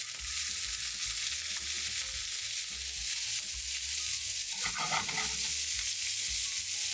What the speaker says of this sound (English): And now we're gonna add in our corn.